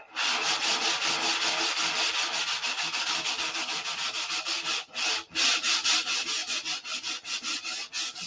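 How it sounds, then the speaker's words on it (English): Hand sanding a P-47 model aircraft, open-handed without a block: steady, close, rhythmic rasping strokes that run continuously, then break into shorter separate rubs toward the end, with no talking. "Now I know I'm sanding open-handed"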